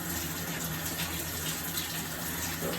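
Tap water runs steadily through a trombone being cleaned, a continuous hissing gush with a faint hum underneath, close and even from start to finish with no voices.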